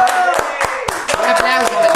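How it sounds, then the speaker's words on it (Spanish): An audience at a comedy show claps in a sharp, evenly spaced rhythm, about four beats a second, over voices and musical tones. "¡Un aplauso!"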